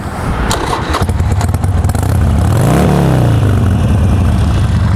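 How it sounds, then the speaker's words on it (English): A carbureted Harley-Davidson Sportster 1200 Low runs close by with a loud, loping idle, its uneven thumping swelling into a brief rev and settling back to a steady rumble. "It's a carbureted bike, so it's got that nice little lope to it."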